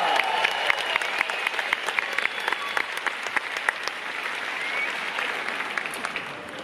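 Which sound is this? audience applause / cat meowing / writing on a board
audience applause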